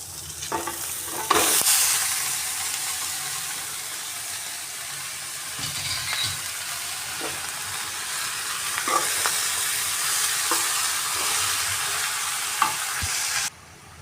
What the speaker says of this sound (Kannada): ಇವಾಗ ಸೊಪ್ಪು ಹಾಕ್ತಾಯಿದ್ದೀನಿ.